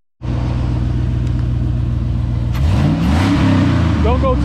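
A 1996 Impala two-door with a swapped LS V8 engine idles loudly and steadily up close, then the engine is revved so its pitch climbs and swells several times.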